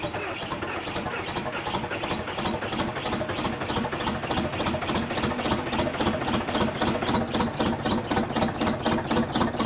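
A Ram truck engine that had trouble starting cranks with a fast, even, chugging rhythm, loud and close, holding steady throughout without a voice over it.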